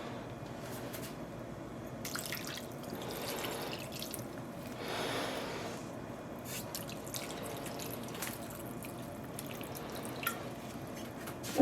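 Water poured over yarn laid out for dyeing, making soft, continuous splashing and dripping with a few wet squishes, fairly quiet and close, with no talking.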